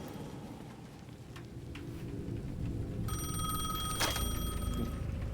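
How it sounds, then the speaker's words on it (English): A payphone at the edge of a plaza in the video game Alan Wake 2 rings with a bright electronic bell, starting partway through over a steady roar of rain and rumbling thunder. "The payphone at the edge of the plaza was ringing again."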